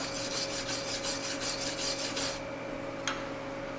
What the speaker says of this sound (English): On aluminum that's heavily oxidized, you can actually feel the brush as it digs through the oxide layer